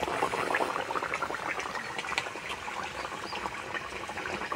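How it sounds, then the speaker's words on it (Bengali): A tilapia fish curry boils in a pot, giving a dense, steady bubbling and popping at close range with no voices. "মাছ দেওয়ার পর ঝোলটা ফুটছে"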